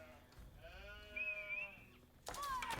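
Sheep bleat in an Age of Empires match, gathered under the town center: a wavering, drawn-out bleat followed by a sharper second call near the end, clear against faint game ambience.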